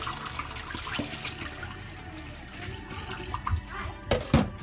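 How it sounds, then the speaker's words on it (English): Rinse water drains out of a container of washed vegetables in a kitchen, a gurgling, splashing flow with a few louder sloshes near the end, while a voice speaks under it. "This time we just drain all the water out."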